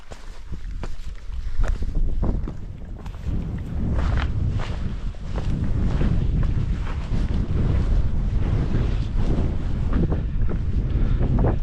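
Strong gusting wind batters the microphone on an exposed mountain ridge on a cold fell walk between Red Screes and Fairfield. A loud, continuous roaring rush swells and buffets throughout, with no speech.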